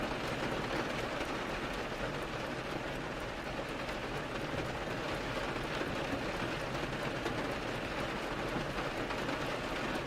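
Rain trickles and patters down storefront windows in a steady, even hiss with soft crackle, constant and unbroken at moderate level, with no voices.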